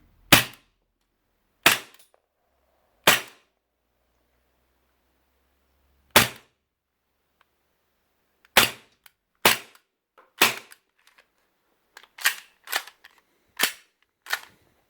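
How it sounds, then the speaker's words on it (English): Cybergun/VFC FN FNX-45 airsoft pistol firing a string of about eleven sharp, snappy shots, spaced out at first and then quicker near the end, loud and close against silence, no talking. "let's just do a little bit of shooting over here. Really snappy action, look at that."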